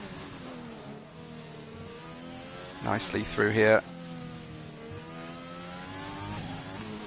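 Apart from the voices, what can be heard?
racing car engine revving in a racing video game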